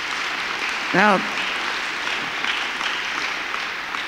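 Steady audience applause at a lecture on ending the Cold War, a dense wash of clapping throughout, with a voice briefly speaking over it near the start.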